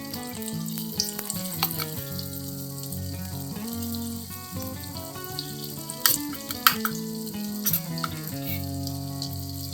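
Sweet mixed-lentil fritters sizzle steadily in hot oil in a pan, with occasional stirring clinks and soft background music and no talking.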